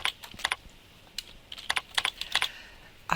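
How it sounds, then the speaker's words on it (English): A name being typed on a computer keyboard, with small clusters of crisp, close key taps separated by short pauses, quiet and with no voices. "I type in the name of the rep."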